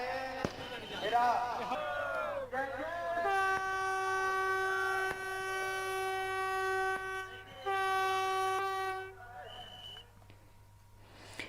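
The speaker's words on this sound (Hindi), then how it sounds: "पीएम मोदी ने दिल्ली से खजुराहो के लिए एक नई ट्रेन वंदे भारत का आगाज किया" A Vande Bharat train at Tikamgarh railway station sounds a long, loud horn blast, then a second shorter blast, over the rumble of the train and the noise of the crowd.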